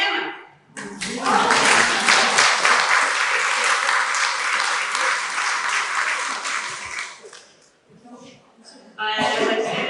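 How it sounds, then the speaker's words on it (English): An audience at the 2022 Memory Strings fashion show breaks into loud, dense applause that rolls on for several seconds, then fades. Talk comes in near the end. "So big round of applause for Mr. and Mrs. Phil Hammond."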